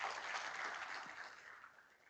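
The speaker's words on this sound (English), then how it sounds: "So give yourself a big round of applause." A corporate awards-ceremony audience gives a round of applause, heard as a soft, fairly distant wash of many hands clapping that gradually fades away.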